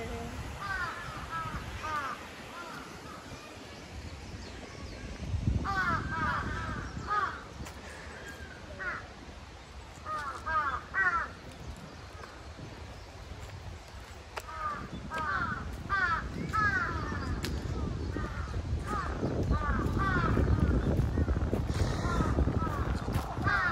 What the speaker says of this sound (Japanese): まあカラスが多いね。